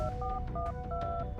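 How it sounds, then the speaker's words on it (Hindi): A telephone number being dialed: a quick series of about five two-tone keypad beeps, evenly spaced, over a low background hum. "उसने सुबह उठते ही सबसे पहले देवेन को फोन मिलाया"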